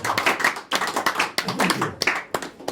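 Folk club audience on St Patrick's Day clapping in a rough, uneven rhythm of sharp hand claps, fairly close, with voices mixed in.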